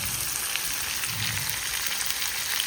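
Onion-tomato gravy with garam masala sizzles and fries in oil in a pan, a steady, close crackle with soft bubbling and no voices.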